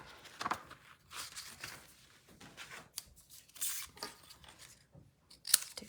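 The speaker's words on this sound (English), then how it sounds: "I'm gonna cut a strip from Early Espresso" Scissors snip through a strip of Early Espresso cardstock for a slimline card project, a run of quiet, crisp cuts and rustles at close range with brief pauses between them and no talking.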